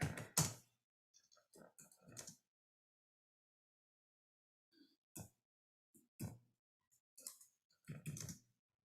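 Faint clusters of computer keyboard keystrokes come in sparse bursts separated by silent stretches, close and quiet.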